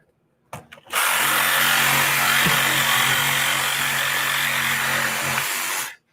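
Power saw cutting through a load-bearing wall with a blade made for screws, running loud and steady for about five seconds after a brief start-up stutter, then stopping.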